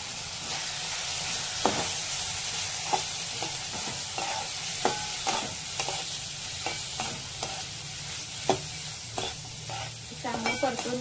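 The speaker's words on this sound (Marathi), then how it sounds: "चांगलं परतून घ्यायचं" Spiced phodnichi poli, torn flatbread, being stirred and sautéed in a pan, a continuous hissing sizzle with repeated scraping and tapping strokes from a spatula at an irregular pace, heard up close with no talking.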